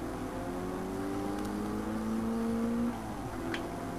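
A car engine in Forza Motorsport 4, a Nissan Silvia S14, Toyota Supra Twin Turbo or Pontiac Trans Am, whining faintly with rising pitch sweeps as it accelerates, quiet and distant.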